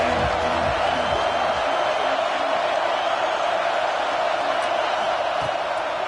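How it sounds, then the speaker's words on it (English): A football stadium crowd at Iowa versus Michigan roars continuously as a loud, dense wall of cheering and whooping, with faint voices underneath. "This crowd ready to make its presence known."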